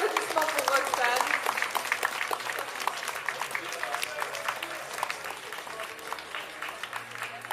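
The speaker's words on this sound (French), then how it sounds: "Un gros applaudissement pour Roxane." Enthusiastic audience applause at a lolita contest during a Japanese-culture convention, a lively crowd clapping continuously with individual claps standing out, somewhat distant, with faint voices mixed in.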